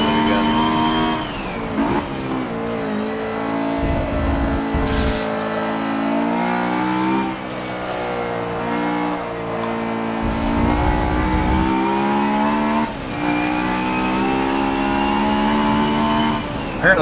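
Honda race car engines rev and drone continuously in Forza Motorsport 7 at the Mugello circuit. The revs climb and drop through gear changes, steady and loud the whole way through, with no talk.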